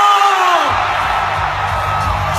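A crowd at a network marketing event shouts and whoops loudly together, a sustained roar of many voices filling the room from start to finish.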